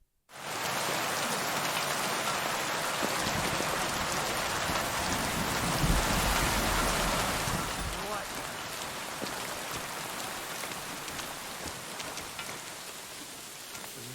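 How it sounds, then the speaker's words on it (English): Steady rainfall pours in the medieval open-world game Kingdom Come Deliverance 2, a dense continuous hiss of drops on surfaces with a low distant rumble that swells midway and then eases slightly, with no talk over it. "Bloody rain."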